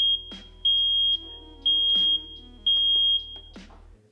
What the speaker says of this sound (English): So I'm going to hit the test button. Now you'll hear the alarm